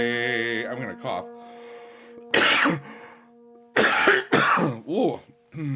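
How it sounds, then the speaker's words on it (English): A singer in a voice lesson coughs and clears her throat several times in short, close bursts, separated by brief pauses, with a little talking mixed in. "I'm gonna cough."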